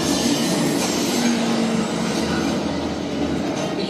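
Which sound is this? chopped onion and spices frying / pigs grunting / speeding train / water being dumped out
speeding train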